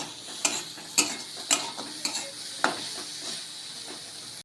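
Shredded cabbage fries in butter in a pan for pasta, with a steady soft sizzle broken by about half a dozen sharp scraping strokes as a spoon stirs it, close and without talk.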